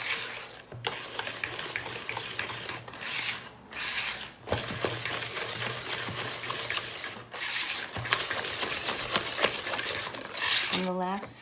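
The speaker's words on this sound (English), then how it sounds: "And mix it up again." Lemon square batter with flour and a pinch of salt being mixed in a bowl, rhythmic scraping and clinking of a utensil against the bowl with brief pauses between strokes.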